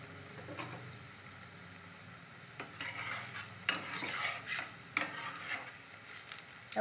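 Fritters of ripe jackfruit pulp deep fry in oil, giving a soft, faint sizzle broken by a few sharp clinks and stirring sounds.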